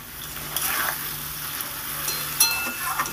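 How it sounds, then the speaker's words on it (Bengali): Fried potatoes being stirred into a spiced vegetarian curry for phuluri jhol, with a steady close sizzle broken by a few sharp scrapes and clacks of the spoon against the pan. "এবার আমি দিয়ে দেবো এর ভেতরে ভাজা আলুগুলো। ভাজা আলুগুলো দিয়ে সুন্দর করে নেড়ে চেড়ে দেবো।"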